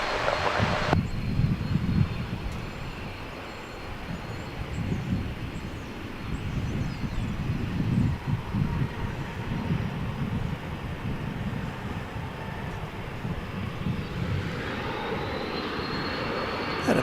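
An airliner rolls down the runway and takes off at DFW International Airport, a broad roaring engine rumble heard from a distance that builds and holds steady throughout.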